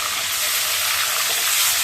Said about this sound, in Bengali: এবার মাছগুলো প্রথমে ছেড়ে দিই